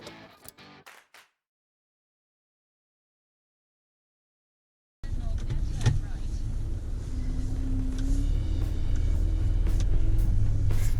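A bus engine rumbles low and steady during a ride, starting abruptly after a stretch of silence and building to a heavy, continuous drone with faint rattles.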